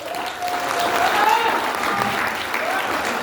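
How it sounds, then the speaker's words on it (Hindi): An audience claps loudly and steadily at a company launch event for A1 Anvik International Marketing, a brief continuous burst of applause with a voice faintly over it. "चलिए अपने घर के नाम पे एक जोरदार ताली बनिए।"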